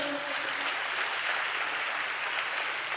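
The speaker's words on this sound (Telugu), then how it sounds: "చప్పట్లు కొడుతూ స్తోత్రాలు చెప్దాం" A church congregation claps together during a pastor's sermon, giving steady, continuous applause at moderate volume with no break and no voice on top.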